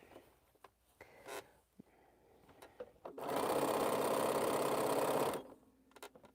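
A quilter's sewing machine runs a continuous burst of stitching for about two seconds, loud and steady, set between quiet handling clicks and taps.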